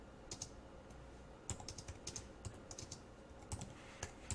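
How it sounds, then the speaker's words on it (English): Fingers type on a computer keyboard while writing JavaScript code, producing quiet, close key clicks in short irregular bursts with brief pauses between them and no voices. "Now, as I'm typing this,"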